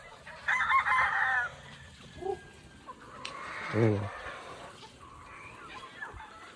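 Chickens and pullets on a farm, with a rooster crowing and hens clucking in short bursts at a moderate distance, with a voice talking briefly nearby.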